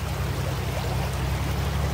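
A river flowing over a stony bed near the village of La Caldera in Salta, Argentina, giving a steady, broad rushing wash with no pauses and no voices.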